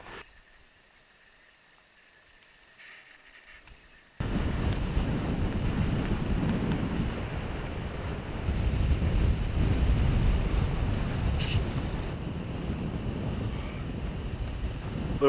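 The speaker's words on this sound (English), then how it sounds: "A little windy up here." Strong wind gusting across an exposed high viewpoint in the Icelandic highlands on the Laugavegur and Fimmvörðuháls trails, a loud, steady roar buffeting the microphone that starts abruptly after a few seconds of near quiet.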